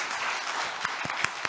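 Audience applause at a disability-policy forum with presidential candidates, a steady wash of clapping from a large crowd with a few sharper claps standing out near the end.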